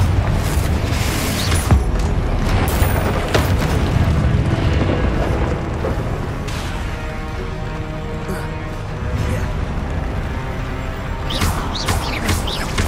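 Confringo explosion spells in Hogwarts Legacy go off as repeated booming blasts and crashing debris, loud and dense, with game effects rumbling throughout.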